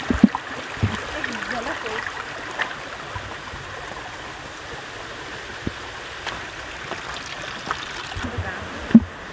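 The Khardu stream near Dharan, Nepal, flows in a steady, broadband rush of water that holds level throughout, with occasional soft splashes and a brief sharper knock near the end.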